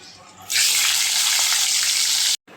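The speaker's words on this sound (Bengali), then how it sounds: "সব সবজিগুলো আমি একে একে দিয়ে দিচ্ছি, দেখতে পাচ্ছ।" Mixed vegetables with jackfruit seeds and taro hit a hot frying pan, setting off a sudden loud burst of close sizzling that holds steady for about two seconds, then cuts off abruptly.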